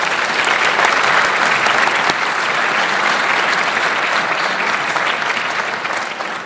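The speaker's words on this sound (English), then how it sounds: "Please join me in a round of applause." A full audience at a community award ceremony claps loudly and steadily for several seconds, a dense even roar of applause that tapers slightly at the end.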